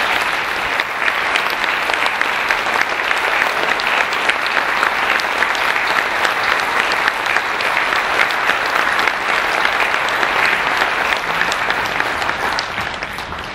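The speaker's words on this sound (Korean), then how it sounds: "한 박수로 맞아주시면 감사합니다" Banquet audience applauding to welcome a veteran advertising figure and his wife, a sustained, even wash of many hands clapping, loud and close, continuing unbroken without speech.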